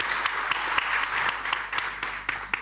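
Steady applause greets the arriving Republic of Congo Minister of Forest Economy at a forest heritage conference, a dense wash of clapping with a few sharper, closer claps standing out.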